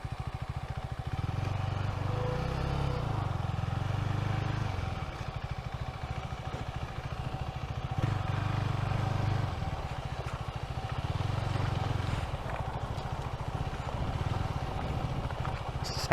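Husqvarna Svartpilen motorcycle engine ridden over rough ground in a city, a steady mid-pitched engine drone with periodic throttle swells and rattling clatter, close and continuous with no talk.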